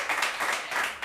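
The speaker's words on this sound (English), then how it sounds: "Yeah, you applaud that." Audience at a live comedy show clapping, a brief burst of dense, moderately loud applause heard alone.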